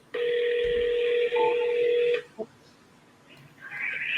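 Telephone tones from a sales call being placed: a steady, loud electronic tone holds for about two seconds, then cuts off, followed by a brief blip and a rising faint tone at the end.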